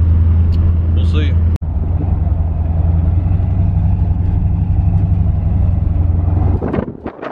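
A Squarebody C10 pickup with an LS engine swap drones steadily from inside the cab, a loud, constant low hum. A brief sharp click comes early, and the drone fades near the end.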